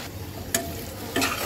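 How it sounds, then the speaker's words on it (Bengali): A watery spice paste for hilsa curry is stir-fried in oil, giving a steady close sizzle marked by two sharp scrapes of a spatula against the pan. "যে পর্যন্ত আমার ধরো তেল না ছাড়বে আর জল না শুকাবে সেই পর্যন্ত আমি কিন্তু সুন্দর করে কষাবো"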